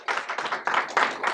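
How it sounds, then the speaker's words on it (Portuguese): Short applause for volunteers at a group hypnosis show, a few close, sharp bursts of clapping in an uneven rhythm. "Palmas para os voluntários!"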